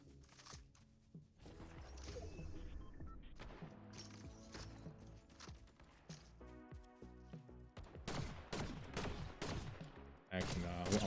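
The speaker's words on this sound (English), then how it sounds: "Got someone shooting at us." Bursts of gunfire from a Fortnite match crack out in irregular volleys, some rapid and clustered, others single sharp shots, over game ambience with a voice faintly in the background.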